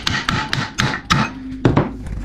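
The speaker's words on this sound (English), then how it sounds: "Hammer this one in." Seven or eight sharp metallic hammer blows land in quick succession, loud and close, as a pipe is driven into a suspension bush on a Ford Territory, each strike ringing briefly.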